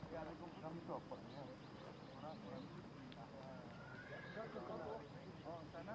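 A horse neighs faintly beneath someone talking continuously over steady background noise, with racehorses being prepared for a horse race.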